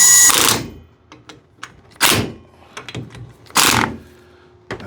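Lug nuts on a Daihatsu Hijet S110P wheel being cinched up with a socket: three loud bursts of ratcheting and whirring, separated by short clicks and metallic taps, close by with no talking.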